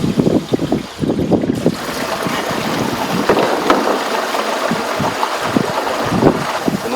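Waste water drains from an RV into a Camco Rhino tote tank, a steady, loud rushing gush that runs the whole time, with a brief dip near the start, and no talking over it.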